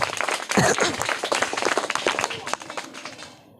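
Class 3 schoolchildren clap for a classmate's correct answer, a burst of brisk applause that thins out and fades over a few seconds, with voices mixed in.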